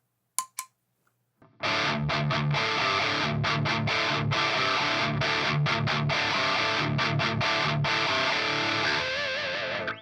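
Heavy metal electric guitar through a JHS Angry Charlie distortion pedal, chugs and sustained chords after a couple of brief picked notes, loud and dense with short rhythmic stops.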